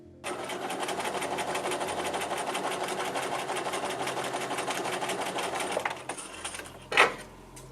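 A sewing machine stitches concentric half-circle reinforcing lines on parts of an 1860s cage crinoline hoop skirt, running in a fast, steady, close-up mechanical rattle for about six seconds before stopping, followed by a brief clunk.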